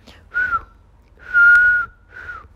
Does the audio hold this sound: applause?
no